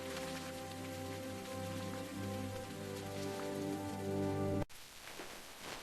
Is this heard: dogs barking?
no